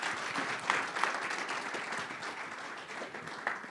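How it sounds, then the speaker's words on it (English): Audience applause for four panelists at a land use discussion event in Delaware, a steady wash of many hands clapping throughout, moderately loud and continuous. "If everybody could give me a round of applause for the 4 panelists here today."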